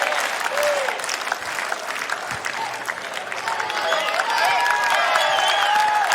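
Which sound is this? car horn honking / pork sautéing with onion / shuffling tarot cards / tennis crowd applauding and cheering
tennis crowd applauding and cheering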